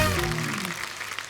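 A studio audience on a comedy talk show applauds as the actors Raj Babbar and Jaya Prada come on; a tonal musical swell fades out at the start, leaving a steady, dense spread of clapping.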